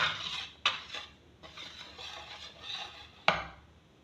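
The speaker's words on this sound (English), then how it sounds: "So I'm stirring it now." Pizza dough ingredients, sugar, salt and baking powder, stirred in a bowl with a utensil, giving soft scraping swirls punctuated by two sharp clinks against the bowl; quiet and close, with no talking.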